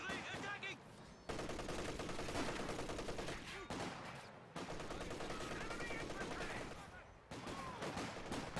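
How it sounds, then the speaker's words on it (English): An MG34 machine gun fires in the Company of Heroes 2 battle game, rattling off long rapid bursts that break off briefly and resume, amid other loud battlefield noise. "We got the MG34 being set up right here."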